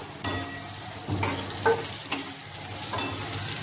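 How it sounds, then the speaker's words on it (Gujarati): Torn roti pieces are stirred into a spiced masala mixture in a pan, giving a few scraping strokes over a soft, steady sizzle, close and alone. "બરાબર હલાવી લેવાના છે"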